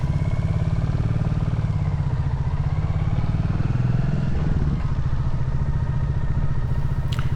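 Royal Enfield Classic 350 motorcycle riding through a town, a steady close thumping single-cylinder engine with wind noise throughout.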